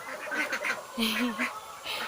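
Young ducklings on a farm, kept in a rubber water tub, give several brief nasal calls near and moderately loud, with a voice talking over them at times.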